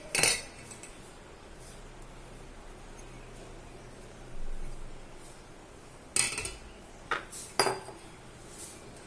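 Ragi flour tipped from a container into a metal vessel, heard as a few sharp clinks and scrapes of utensil against metal, alone in a quiet kitchen with a soft rustle between them.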